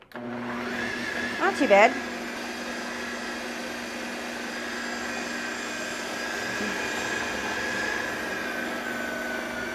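A Ninja Foodi Power Pitcher blender motor runs on its dough setting with a steady, loud whirring drone; a short bump of louder churning comes early, and a voice speaks briefly over it.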